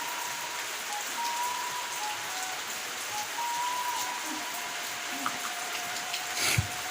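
Steady rain patters on a surface in a constant hiss, with a few louder drops and a faint tone in the background.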